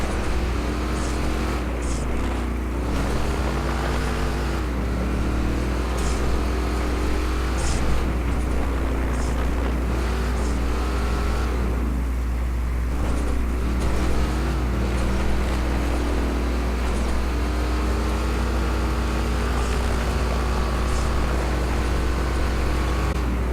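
A vehicle engine in a racing video game, a continuous drone that rises and falls in pitch as the damaged car is pushed along, with a steady low hum underneath.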